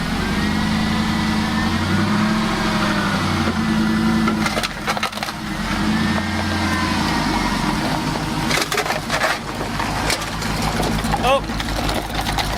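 A Toyota truck fitted with a swapped LS V8 idles with a steady low rumble, loud and close, while people talk over it and some rattling and clattering noises break in.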